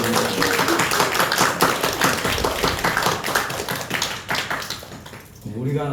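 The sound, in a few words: congregation clapping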